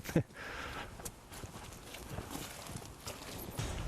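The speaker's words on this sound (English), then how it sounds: "I see some horses coming through" Horses walk past through a forest with steady hoof clops, mixed with rustling and ambient noise, moderately close.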